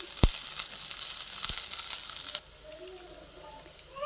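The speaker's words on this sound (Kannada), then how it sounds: "ಎಣ್ಣೆ ಕಾದಿತ್ತು. ಇದಕ್ಕೆ ಉದ್ದುದಕ್ಕೆ ಹೆಚ್ಚಿರೋ ಈರುಳ್ಳಿ ಹಾಕೋತಾ ಇದ್ದೀನಿ." Lengthwise-sliced onions hit hot oil for cabbage Manchurian, giving a bright, close sizzle with a couple of sharp pops that suddenly drops to a quiet background after about two seconds.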